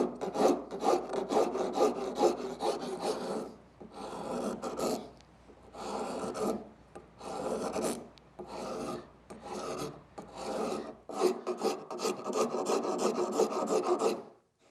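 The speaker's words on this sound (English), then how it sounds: "I'm going to use a rasp again." A wood rasp shapes soft scrap lumber for a sanding block, scraping rhythmically in repeated strokes, a coarse grinding rasp in bursts with short pauses between, close and fairly loud.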